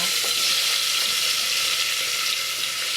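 Onion and potato fry in a pan for a quick home khichdi, a loud, steady, close sizzle with light stirring scrapes mixed in and no speech.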